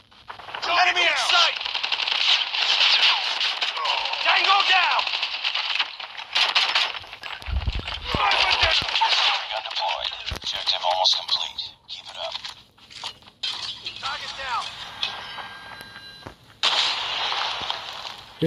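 Pistol gunfire in Call of Duty Mobile multiplayer sounds as rapid, repeated sharp shots in quick bursts, loud and close, with game effects and a player talking over much of it.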